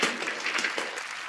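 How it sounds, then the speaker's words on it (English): Audience applause at The Game Awards 2020 ceremony as the winner is announced, a steady wash of clapping sustained throughout at moderate loudness, with no talking over it. "Are you ready to clap?"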